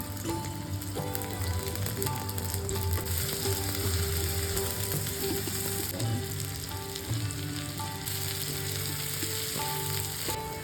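Chopped onion and plenty of garlic fry in a hot pan, giving a steady, loud, dense sizzle with crackling throughout and no voices.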